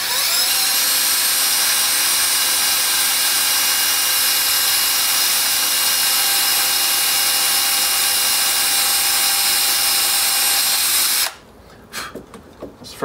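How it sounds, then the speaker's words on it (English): A power drill with a 3mm bit bores holes in the connection panel of a Robe 600 LED wash light, giving a steady, loud, high whine for about eleven seconds before stopping, followed by a few faint clicks. "use a drill, a 3mm drill bit, and very carefully, without drilling into the sub cabinet"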